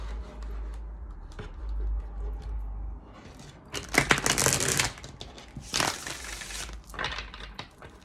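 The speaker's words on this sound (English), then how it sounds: "Trying to shuffle them that way because they're too long for me to shuffle this way." Dry papery riffling of large oversized tarot cards, a few bursts of shuffling with soft taps and pauses between, close and fairly quiet.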